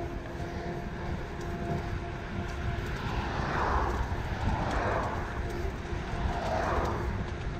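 Passing vehicles on a busy rural country road, heard from a bicycle path alongside, with a steady broadband roar and several swelling pass-bys, under wind noise.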